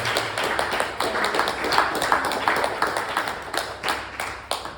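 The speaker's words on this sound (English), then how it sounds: "I would say a big round of applause." Lecture audience applauds after a talk at an art space, a steady patter of many hands clapping with crisp, irregular individual claps, moderately close and without speech.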